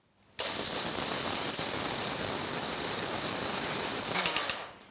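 A kitchen blender dry-grinds soaked rice for idli batter without water, a harsh, rattling whir that starts abruptly, runs steady for about four seconds, then sputters and cuts off.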